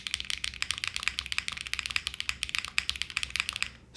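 Rapid, steady typing on a Cat65 mechanical keyboard build with a slight metallic ring, a dense run of close clicks and clacks without talk.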